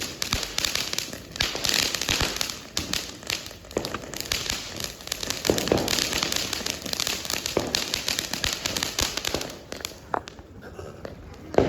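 Diwali firecrackers burst in rapid, irregular crackling pops with sharp loud reports over roughly twelve seconds of continuous outdoor noise, no speech heard.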